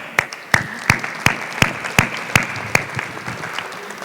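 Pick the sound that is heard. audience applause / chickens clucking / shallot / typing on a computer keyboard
audience applause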